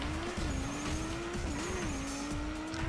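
A video game racing car with a V16 engine holds a loud, steady droning note that dips and rises slightly as it is driven, with faint tyre noise underneath.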